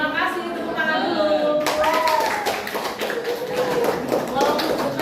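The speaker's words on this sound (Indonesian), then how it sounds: "Tepuk tangan dulu." A middle school maths class in Bandung claps hands together during a lesson, with steady rapid claps mixed with lively children's voices and a teacher talking throughout.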